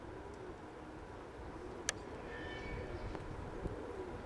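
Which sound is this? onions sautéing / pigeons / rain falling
pigeons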